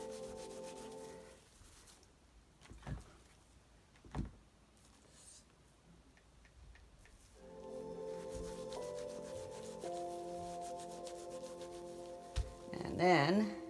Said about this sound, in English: So another minute of rubbing like this.